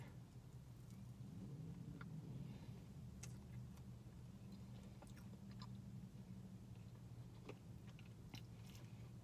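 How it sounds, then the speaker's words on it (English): Bites and chewing of a granola-topped Krispy Kreme fall doughnut with cinnamon icing, producing steady close crunching and mastication over several seconds, with scattered sharp crunch clicks and no talk. "The granola gives you that hard crunch."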